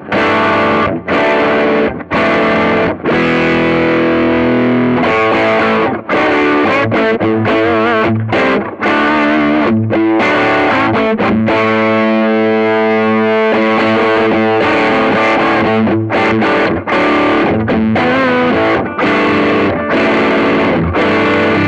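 An electric guitar plays through a Dova Greyhound Jr amp with a gain pedal engaged, giving a loud, distorted, sustained sound with chords and single-note lines and no talking.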